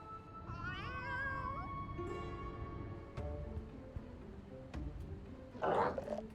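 A cat meows several times in Final Fantasy XIV, rising and falling cries near the start, followed by sparse clicks and a brief gargling burst near the end, with no talking.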